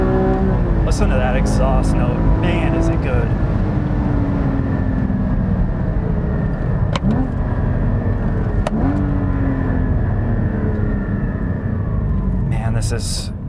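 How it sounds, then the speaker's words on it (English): A sports car's exhaust note drones loud and steady while driving, with gear-shift pitch rises and dips and occasional clicks, a voice speaking over it at times. "Listen to that exhaust note."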